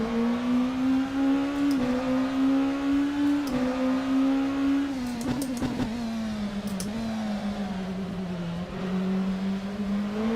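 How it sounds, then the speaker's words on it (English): A race car engine in a racing simulator drones at high revs and repeatedly bangs against the rev limiter, a loud buzzing tone broken by rhythmic fluttering cuts, with brief sharp clicks from gear changes. "Why does the car sound like a helicopter trying to start up when you hit the limiter?"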